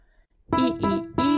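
The William Tell Overture melody is played on piano in an easy children's lesson arrangement. Three quick, bright repeated notes sound close and clear after a brief quiet start.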